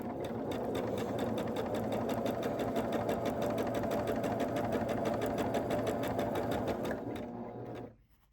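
Sewing machine stitching a quilt block, giving a steady, close, fast mechanical whir with a rapid needle rhythm that runs for about seven seconds before stopping abruptly.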